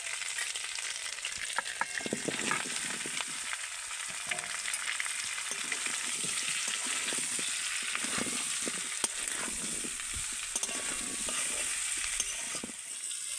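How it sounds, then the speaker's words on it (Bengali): Green jackfruit pieces fry in leftover prawn oil in a pan, giving a loud, steady sizzle with frequent crackles and occasional stirring scrapes, and no speech over it. "ওই চিংড়ির তেলের মধ্যেই আমি এঁচোড়টাকে ভেজে নেব।"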